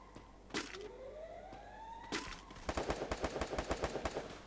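Gunfire in the Free Fire battle royale game: two sharp single shots, then a rapid burst of automatic fire, with a rising electronic whine running underneath.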